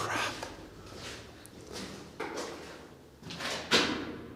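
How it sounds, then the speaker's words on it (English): A steel door deep in a WW2-era tunnel complex is tried and stays shut, with three or four heavy metallic bangs and rattles that echo in the enclosed space, the last one loudest. "Steel door, completely shut,"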